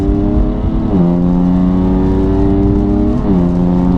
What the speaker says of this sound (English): you could probably hear as soon as the boost kicked in the wheels just span